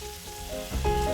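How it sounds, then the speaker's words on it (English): Chorizo sausage and par-cooked potatoes frying in a pan for a breakfast hash, a steady close sizzle with scraping stirring that swells louder near the end. "The potato and the chorizo sausage are melding together, cooking up"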